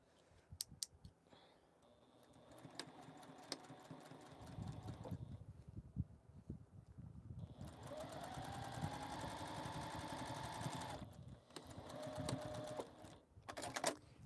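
Sewing machine stitching a short seam to finish a fabric sewing caddy, a steady whirring run of stitches lasting several seconds with brief clicks and handling noises before and after.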